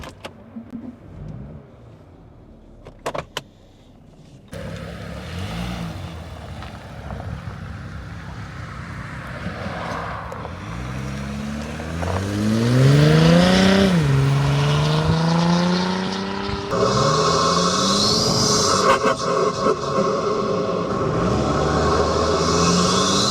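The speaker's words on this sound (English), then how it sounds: "you can hear that beautiful snorkel as well as a turbo diesel" A Porsche Cayenne 958.2 turbo diesel overland build with a snorkel drives past and revs, engine note climbing and falling as it accelerates, loud and close with intake whoosh.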